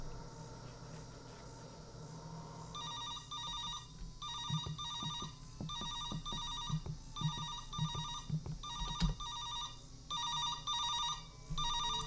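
A telephone rings in a horror video game as the father calls, repeated bursts of electronic trilling bells in regular pairs with short gaps, over low background rumble and faint thuds.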